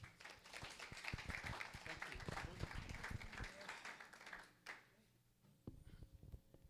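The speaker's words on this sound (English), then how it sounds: "Let's applaud for Mr." An audience at a Christian conference on immigration applauds a speaker with dense, steady clapping for about four and a half seconds, then it quickly fades to near quiet before faint sounds resume.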